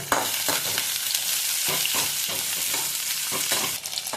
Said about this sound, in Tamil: சின்ன வெங்காயம் வெட்டி வச்சுருக்கேன் அதை நல்லா போட்டு நல்லா வதக்குங்க